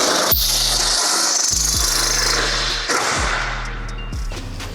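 Power drill boring out holes in the trunk lid of a 2023 Subaru WRX, with repeated bursts of motor whine and rasping metal cutting, stopping and restarting several times close up.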